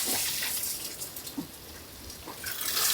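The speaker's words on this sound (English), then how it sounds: "it's literally tipping it down. You can hear it over there falling off the roof" Heavy rain pours off the roof of a boat, a faint, steady hiss of falling water with scattered splashes and drips.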